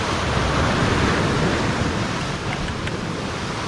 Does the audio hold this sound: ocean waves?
yes